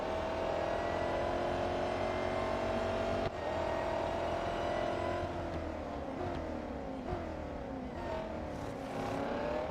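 Race cars in the Real Racing 3 video game racing closely, with a steady high-pitched engine whine that dips and rises through gear changes, continuous and fairly loud for several seconds with no talking.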